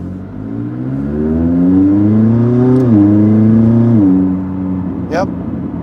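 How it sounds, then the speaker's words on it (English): A 2019 McLaren 600LT's engine accelerates with its turbo, giving a loud, close, rising drone that climbs through gear changes and ends with a brief high whistle-like chirp. "Hearing the turbo kick in is super cool"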